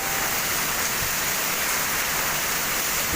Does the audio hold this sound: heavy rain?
yes